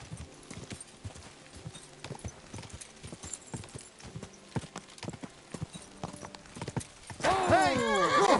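Horse hooves clip-clop at a gallop in the medieval game Kingdom Come Deliverance 2, a steady run of close, sharp beats, ending in a loud whinny over a raised voice.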